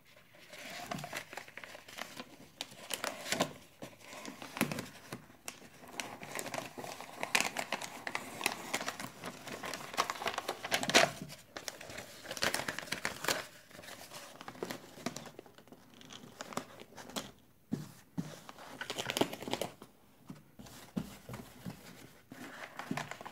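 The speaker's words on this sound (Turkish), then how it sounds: "Onun da yapışkanını ayırıp kaplayalım." Adhesive backing peeled from a cut piece of covering while lining a recycled cardboard box basket gives a close, continuous crinkling and rustling with small tearing snaps, busy throughout with brief pauses.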